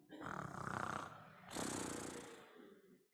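A storyteller imitates a sleeping big white cat snoring, giving two long, rasping, snorting breaths in and out at a quiet level with no other talk.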